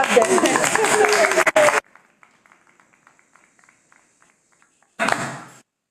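Town council meeting attendees clap briefly, a close burst of claps over a voice, then near silence with faint scattered taps before more talk resumes.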